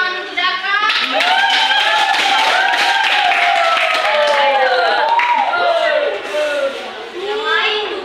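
A classroom breaks into applause for a student named Daka, children clapping briskly together for several seconds while excited young voices shout and chatter over the clapping.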